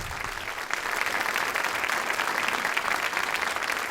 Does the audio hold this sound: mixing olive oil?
no